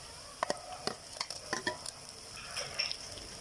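Onions, green chillies and tomatoes stirred in a frying pan for a Kerala beef roast, with a steady low sizzle broken by a series of sharp scraping stirs close by, no talking.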